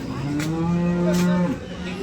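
A cow at a cattle market lets out one long, loud, low moo close by, its drawn-out call sliding in pitch before fading.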